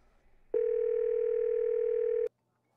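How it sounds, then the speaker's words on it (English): A single steady ringback tone from a CRM dialer's outgoing phone call sounds for about two seconds, clean and alone, then cuts off abruptly. "It's gonna ring for about 20 seconds."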